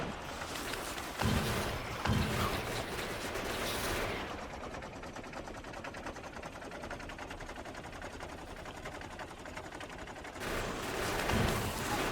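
Continuous rapid gunfire from the Factorio video game as a player clears an enemy biter base, a low, steady rattle of machine-gun shots that thins briefly in the middle and comes back stronger near the end.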